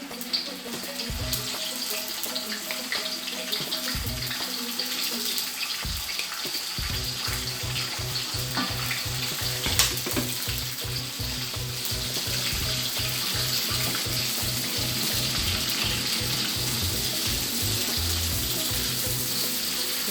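Prawns fry in hot oil with their spices, giving a steady, dense sizzle and crackle that runs the whole time, close and fairly loud, with no one speaking.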